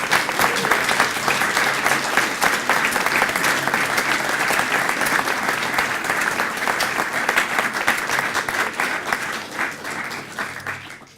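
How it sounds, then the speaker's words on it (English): A room full of guests at a golf club foundation scholarship awards evening breaks into sustained applause, dense and lively clapping that holds strong for several seconds before tapering off at the end. "So how about a round of applause just to start the night off."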